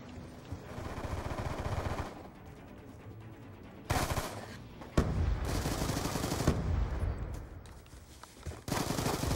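Automatic and single-shot gunfire in the video game Call of Duty Black Ops II, bursts of rapid shots with loud close reports separated by quieter stretches of game ambience.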